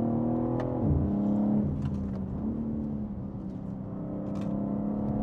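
A BMW M3 Competition xDrive with a remapped engine pulling hard. The steady engine drone rises in pitch through the gears, with brief dips at the shifts, heard close from inside the cabin.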